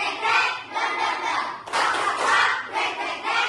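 A group of schoolchildren chant and clap in a counting rhythm during a classroom lesson, with bursts of hand claps and thuds mixed into their voices, close and lively throughout.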